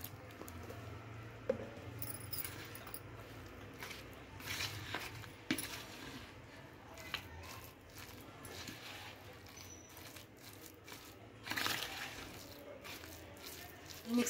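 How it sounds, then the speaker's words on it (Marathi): A spoon stirs besan batter with water in a bowl, making quiet wet squishes and scattered light clinks against the side in a soft, uneven rhythm. "थोडं पाणी घालून मिक्स करून घेऊया।"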